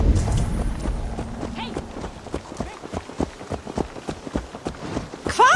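Horse hooves clip-clopping in Assassin's Creed Valhalla, a steady walking rhythm of distinct thuds after a brief burst of talk at the start.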